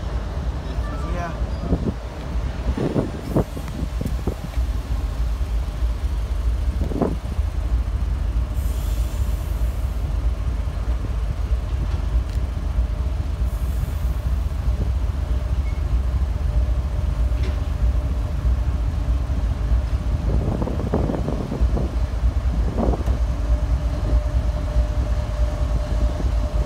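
CSX freight cars rolling past outdoors, with steady low rumble, intermittent clanks and a brief wheel squeal, under wind noise and occasional background talk.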